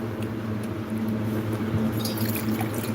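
Cold water is poured into a glass, a steady liquid splash and gurgle at close range lasting a few seconds, with no voices.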